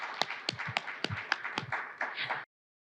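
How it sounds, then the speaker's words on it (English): Sparse clapping from a small audience at a panel discussion on housing vouchers at Medgar Evers College, applauding the all-female panel: a few close, distinct hand claps in an uneven rhythm that stops abruptly after about two and a half seconds. "can we give a round of applause for that"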